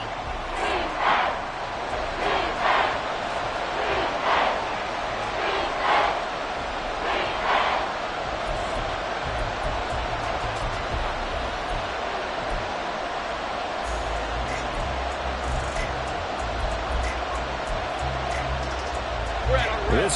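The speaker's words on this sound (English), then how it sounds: "This crowd turning up the decibel level." Stadium crowd roaring at an NFL game between the Texans and Jaguars in the fourth quarter, a dense continuous roar with rhythmic rising chants, and a commentator talking over it.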